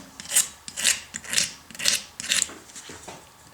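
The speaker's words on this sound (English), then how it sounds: "I'm going to use a razor blade and scrape it towards the outside" A razor blade scrapes old gasket material off the aluminum casing of a Husqvarna riding lawnmower's Tuff Torq K46 transaxle, five rhythmic rasping strokes, close and crisp, each rising and fading, with no talk.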